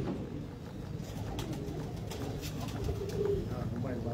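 A prized teddy pigeon coos softly at close range amid low background rumble and faint ambient noise, with a fuller coo near the end.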